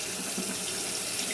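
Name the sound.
tap water running to mix baby squirrel formula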